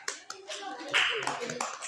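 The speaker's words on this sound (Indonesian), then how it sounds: "Oke, tepuk tangan buat Isra." Classroom applause for a student, a burst of hand claps from a group of children that runs steadily for about two seconds, with some voices mixed in.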